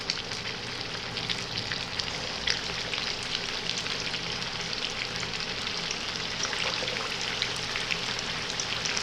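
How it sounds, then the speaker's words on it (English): Nargisi kofta frying in hot oil three at a time, a steady, continuous crackle and sizzle with fine popping, close and even throughout with no talking. "Now gently we are going to fry 3 at a time."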